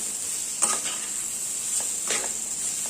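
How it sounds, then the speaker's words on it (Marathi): Half a kilo of boiled, cubed potato pieces sautéed in a pan for samosa filling, giving a steady soft sizzle with a couple of brief scraping stirs, close and alone with no talk. "हा बटाटा मी उकडून त्याच्या फोडी करून घेतलेला आहे हा अर्धा किलो बटाटा आहे परतून घेऊया"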